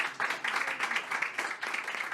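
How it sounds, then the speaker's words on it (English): A panel discussion audience gives a short round of applause for departing panelists, a soft, fairly distant patter of clapping hands in a steady, slightly pulsing rhythm with no voices over it. "let's have a round of applause for them and wish them the very best"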